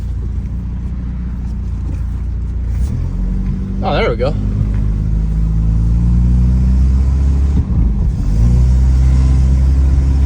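A 1991 Volvo 740 wagon with an exhaust leak drives off, its engine a loud, close, continuous rumble that rises as it revs, with a brief voice speaking over it.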